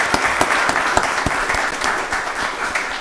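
A county board of commissioners meeting audience applauds as someone comes up, with dense, loud clapping and a few sharp individual claps standing out, fading slightly at the end.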